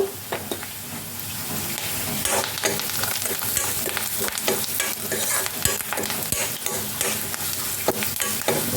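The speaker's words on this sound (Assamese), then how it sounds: "বাদামকেইটা মোৰ ভজা হৈছে যেনিবা অকণমান ৰঙা ৰঙা হ'ব লাগে" Peanuts fry in a pan for a puha breakfast, a steady sizzle and hiss under repeated scraping stirs and light clinks from the utensil, close up, with no talk.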